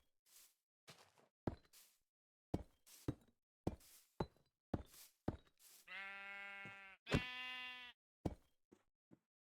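Minecraft sheep bleats, two long wavering calls in a row, set among a string of short blocky clicks and knocks from in-game actions, fairly quiet with no voice over them.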